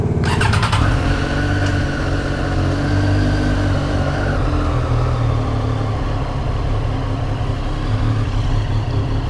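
A motorcycle engine starts with a brief cranking rattle, then settles into a steady, loud rumbling idle, close by on a Tokyo street with no talk over it.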